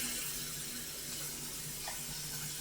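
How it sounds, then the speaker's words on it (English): Water running steadily from a tap into a kitchen sink, a soft continuous splashing rush at low level with no voices. "to increase the amount of water here in the sink"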